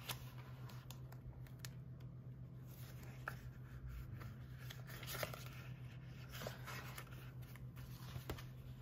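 Pen writing on paper while noting an entry on a Christmas bucket list, a quiet continuous scratching with small strokes and pauses, close and faint against a low steady hum.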